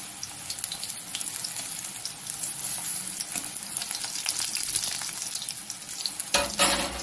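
Curry leaf pakoras frying in hot oil, giving a continuous crackling sizzle throughout, with a brief clatter near the end.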